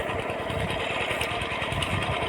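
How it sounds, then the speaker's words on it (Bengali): A small irrigation pump engine runs steadily nearby, pushing water through a pipe into a wheat field; a constant rough motor drone with no breaks and no voices. "আর এই যে দেখুন আমার মেশিনের থেকে ওই যে মেশিন, আর এই যে পাইপে জল যাচ্ছে, সেচের জল"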